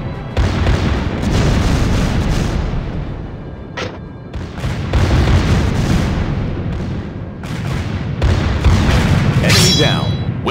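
Torpedo explosions boom and rumble heavily one after another as an enemy ship sinks during a Warship Rising naval battle, with dense, loud blasts filling the whole stretch and an announcer voice briefly breaking through.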